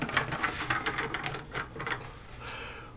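A screwdriver turns out screws from the back of a Hameg 8028 spectrum analyzer module, giving close, faint, rapid scratchy ratcheting clicks in uneven bursts.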